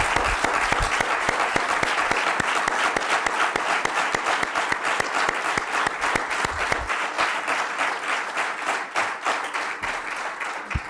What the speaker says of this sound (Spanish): Un aplauso fuerte para la gente de Marea de Residencias.